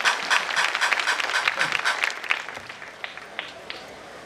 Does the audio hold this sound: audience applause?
yes